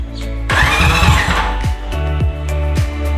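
A starter motor cranks the 190cc engine of a Honda CT70 motorcycle build in neutral. A loud whirring burst is followed by several rhythmic cranking pulses, close up.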